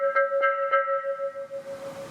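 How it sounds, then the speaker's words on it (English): A ceramic gas-kiln planter, larger than the thinner Vietnamese type, is knocked three times in quick succession, each tap answered by a clear sustained bell-like ring that hangs and slowly fades after the last knock. "If there's a nice ring to it, it means your planter has no cracks in it."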